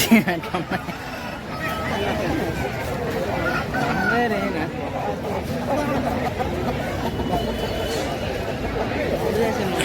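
A country rooster crows at a busy village poultry market where roosters are being sold, the calls rising over a steady babble of crowd chatter and clucking fowl.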